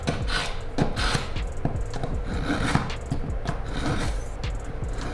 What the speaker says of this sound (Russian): очень хорошо затачивается, этот ножик